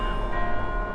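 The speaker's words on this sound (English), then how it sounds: "Do you hear that in the background? Bells." Church-style bells ring steadily in the background, a sustained, layered tonal wash that fills the whole short moment without pause or any talk over it.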